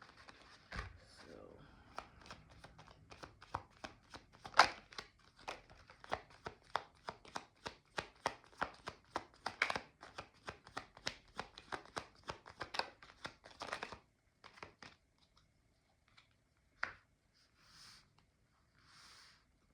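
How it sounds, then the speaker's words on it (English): A deck of tarot cards riffled and shuffled over and over, a long run of crisp, close flutters and slaps with a few short pauses, then sparse taps as cards are laid out near the end. "Let's get a good shuffle on, because I'm hoping different cards come out for this group."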